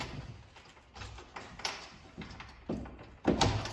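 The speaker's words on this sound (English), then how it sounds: "But this incredible little door opens up" A small old door in a historic house is opened, giving a series of close wooden creaks, knocks and latch clicks at an uneven pace, the sharpest thump near the end, with no talking.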